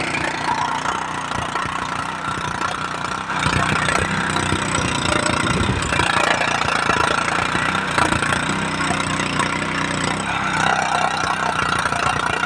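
A concrete vibrator engine runs at a cell tower construction site, a steady loud mechanical drone with rough knocking texture that holds for the whole stretch, growing slightly louder partway through.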